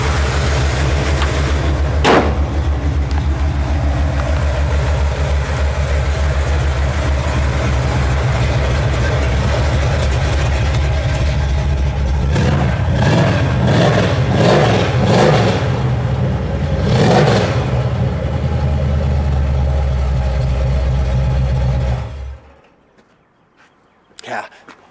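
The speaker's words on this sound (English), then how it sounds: "this GSX sounds cool, huh?" A 1970 Buick Skylark GSX tribute's engine runs steadily at a loud, close idle, then revs up several times in quick bursts before cutting off near the end; brief voices come in under the motor.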